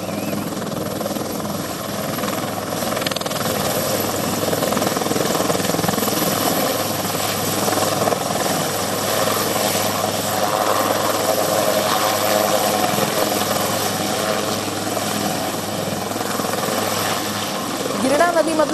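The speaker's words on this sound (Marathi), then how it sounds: "मात्र आता हेलिकॉप्टरची मदत घेतली गेली आहे" A rescue helicopter hovers over the Girna River near Nashik during an operation to lift stranded fishermen. Its steady, loud rotor and engine drone runs unbroken for the whole stretch, with people talking over it.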